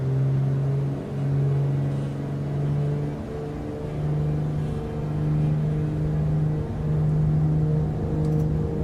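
Twin aircraft engines spooling up for a takeoff departure from runway 16, a steady loud droning hum with strong low tones that rises and holds throughout, close and continuous with no talk.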